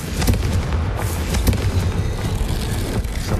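A Confringo fire blast spell exploding in the Hogwarts Legacy video game on PS5, a loud, dense burst of crackling booms and roaring rumble that holds steady for the full few seconds, with no talking.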